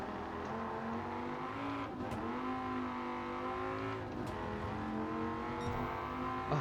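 A 2006 Dodge Viper SRT10 coupe in Gran Turismo 7 on the Tokyo Expressway, its engine holding a steady, rising drone. Brief dips and clunks mark gear changes, and the car sounds close and moderately loud throughout.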